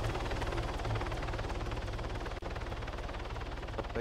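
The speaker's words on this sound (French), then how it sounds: "Allez, on sort de l'hélicoptère." Helicopter in the video game Arma 3, a steady, rapid rotor chop over a continuous engine drone, close and constant throughout with one brief dropout, no voices.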